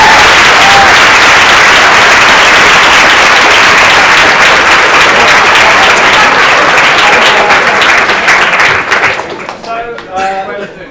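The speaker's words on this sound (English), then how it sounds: "Let's have a big round of applause." A university debate audience applauds loudly and densely, the clapping holding strong for about nine seconds before thinning out and fading to a few scattered claps.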